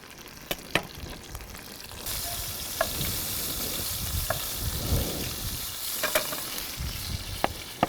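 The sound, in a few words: anchovy fillets frying in oil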